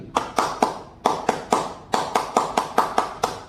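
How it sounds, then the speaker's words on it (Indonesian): Scout-style rhythmic hand clapping, about a dozen sharp, close claps in quick groups separated by short pauses, loud and clear with no talking. "Jadi tepuk tangan pramuka itu pun kita sambil gembira."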